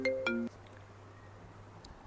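An incoming call's phone ringtone plays a brief two-note electronic chime for about half a second, then cuts off, leaving a low hum and quiet room noise.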